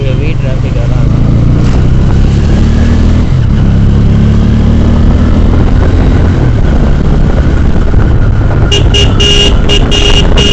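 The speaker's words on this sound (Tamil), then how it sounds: "ரோடு ஹெவி டிராஃபிக்காக தான் இருக்கும்." Steady roar of busy road traffic with engines rumbling and passing vehicles, continuous and loud, a few sharp higher bursts near the end.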